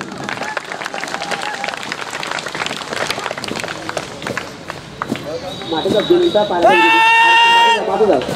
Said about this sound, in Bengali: আসুন আমরা ওদেরকে করতালি দেই, ওদেরকে উৎসাহিত করি।